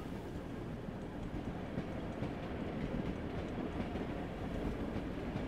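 Diesel railcar in a simulator game, a steady rumbling engine drone with faint rhythmic rail clatter running continuously throughout, no talking.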